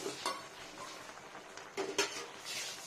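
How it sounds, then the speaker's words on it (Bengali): Poppy seed paste stirred in a pan with ridge gourd and potato, faint simmering sizzle with a few utensil scrapes and clinks against the pan. "একটু পোস্ত হয়ে গেল, এটা নাড়া দিই।"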